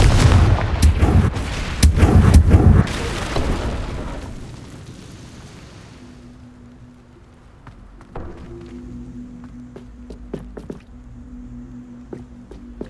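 A Confringo fire-blast spell explodes in Hogwarts Legacy: loud booming bursts pile up in the first few seconds, then fade into a quieter game backdrop with a low steady hum and scattered sharp pops.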